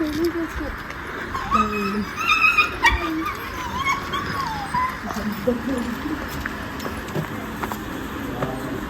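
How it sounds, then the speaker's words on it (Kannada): An excited pet puppy whimpers and yips in high, wavering bursts, close by, while people talk over and around it in a home setting. "ನಮ್ಮ ಪಪ್ಪಿ ಫುಲ್ ಎಕ್ಸೈಟ್ ಆಗ್ಬಿಟ್ಟವಳೆ."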